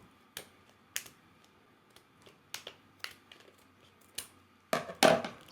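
Plastic case of a CGC graded comic book being cut open, a series of sharp, close snapping cuts spaced about half a second apart, ending in a louder crunching crack.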